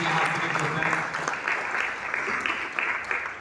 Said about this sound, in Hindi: ताली मार के धन्यवाद करेंगे